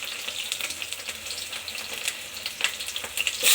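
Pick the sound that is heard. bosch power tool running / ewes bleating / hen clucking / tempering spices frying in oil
tempering spices frying in oil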